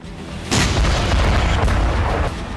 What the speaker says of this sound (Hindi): सिर्फ विस्फोट